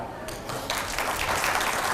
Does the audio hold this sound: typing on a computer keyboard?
no